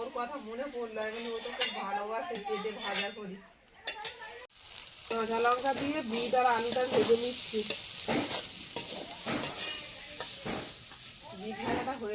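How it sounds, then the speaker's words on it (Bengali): Beetroot fries in a hot wok with a steady, soft sizzle throughout, while a utensil stirs and scrapes at a close, moderate level. "আবারও কড়াই চাপিয়ে দিয়েছি বিটটা ভেজে নেব"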